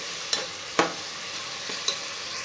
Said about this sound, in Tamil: நான் வந்து ரெண்டே ரெண்டு பச்சை மிளகாய் மட்டும் நான் ஆட் பண்ணிக்கிறேன்